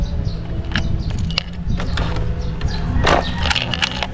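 A bunch of keys jangles and clinks close by in several brief metallic bursts over a low background hum.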